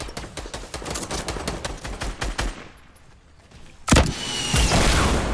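Automatic gunfire in Fortnite crackles in a rapid string of shots, fades into a short lull, then bursts back loud and dense with more shooting toward the end.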